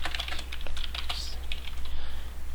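Java code being typed on a computer keyboard: a close, fast run of crisp key clicks with brief pauses, steady and fairly loud, with no talking.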